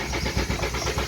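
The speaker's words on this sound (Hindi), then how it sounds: "आप इंजन का भी आवाज़ सुन सकते हैं।" A car engine cranks with a rapid, rhythmic churning from the starter, close and loud, without catching into a running idle; the car is in neutral and will not start.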